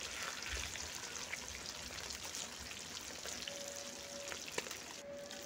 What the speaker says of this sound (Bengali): মাছগুলোকে দিয়ে উল্টে পাল্টে লাল লাল করে একটু ভেজে নেব।